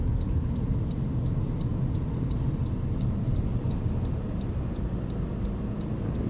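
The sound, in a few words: car left turn signal ticking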